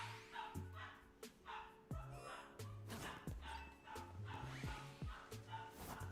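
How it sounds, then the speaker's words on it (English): A dog barks and yips repeatedly in short bursts, fairly distant and mixed with background music and other sounds. "That's a dog."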